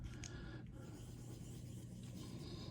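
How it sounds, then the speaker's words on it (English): Hand polishing of a Benchmade Bugout Axis lock part: a steady, close rubbing rasp that runs continuously and evenly throughout, with no voices. "I turn about 90 degrees, polish a little more, turn about 90 degrees, polish a little more"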